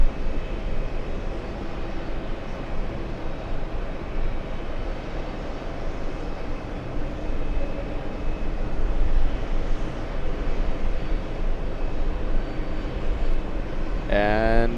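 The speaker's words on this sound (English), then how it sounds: "we're gonna be zooming into a JetBlue flying in from Boston, Massachusetts" A JetBlue airliner on final approach to JFK, inbound from Boston, makes a steady, moderate broadband engine rumble that holds constant with slight swells. A brief sharper noise comes at the very end.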